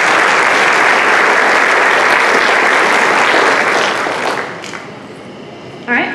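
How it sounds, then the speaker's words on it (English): Audience at a small-town beauty pageant in Alva applauding a judge being introduced, loud sustained clapping from many hands that gradually thins and fades, with a voice briefly speaking as it dies down. "Let's give her a round of applause for our first judge"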